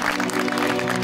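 Applause from a studio audience on a Pakistani comedy talk show greeting a classical singer, a dense steady patter of clapping over a low musical drone, continuous and fairly loud through the short burst.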